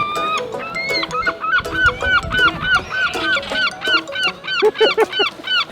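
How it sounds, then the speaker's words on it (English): Seagulls on a UK shoreline calling loudly and continuously, several birds overlapping in harsh, repeated squawks and laughing cries close by. "Seagulls are like the pirates of the shoreline"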